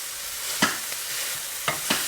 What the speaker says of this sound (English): So just with a potato masher, we need to mash all the peas up.